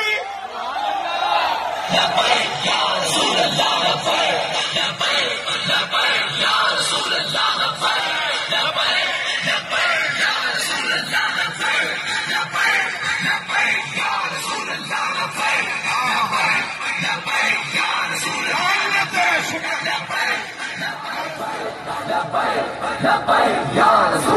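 A huge crowd at an outdoor religious political rally roars rhythmic Labbaik slogans, massed voices yelling in unison continuously and loudly throughout, densely layered and reverberant.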